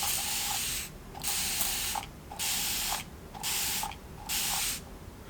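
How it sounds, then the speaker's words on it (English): A spray bottle of Smart Flux mists chain links on a paperclip chain mandrel in four or five even, hissing bursts separated by short pauses, close and fairly loud with no talking. "I'm going to spray that area down so I get it on my links"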